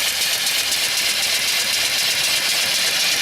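A small steam engine fed by its own boiler, with a belt-driven alternator and a drip oiler, runs with a steady, loud hiss and a fine rapid chuff throughout, with no voices.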